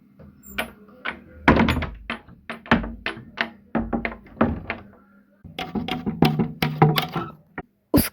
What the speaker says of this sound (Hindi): उसे अचानक कमरे का दरवाजा जोर से बंद होने की आवाजें आई।